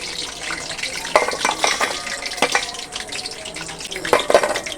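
Crackling, bubbling sizzle of lentil fritters frying in hot oil, with intermittent scraping and clinks of a utensil against the pan.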